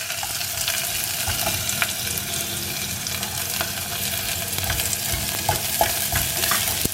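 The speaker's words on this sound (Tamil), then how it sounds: "கடுகு பொரிஞ்சிச்சு." Mustard seeds crackle and pop steadily in hot oil, a continuous spitting sizzle with occasional sharper snaps, close by and moderately loud.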